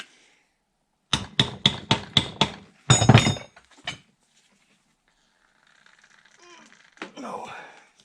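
A hammer taps a carburetor part from a Stickney 7HP hit-and-miss stationary engine: five or six sharp, evenly spaced metallic knocks, then a brief cluster of heavier blows, followed by quiet rustling and someone speaking.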